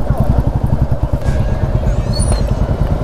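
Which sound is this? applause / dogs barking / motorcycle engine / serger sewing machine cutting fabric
motorcycle engine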